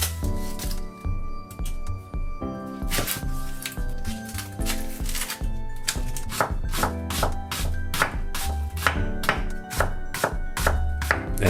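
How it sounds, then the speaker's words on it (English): A kitchen knife slices an onion on a cutting board, the steady crisp chops coming close and distinct, picking up into a quick regular rhythm of sharp knocks, with no voices. "I'm gonna slice up an onion"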